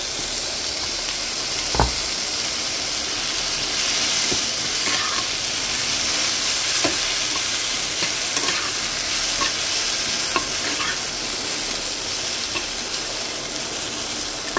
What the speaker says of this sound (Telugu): ఇప్పుడు ఇది వేగుతూ ఉంటుంది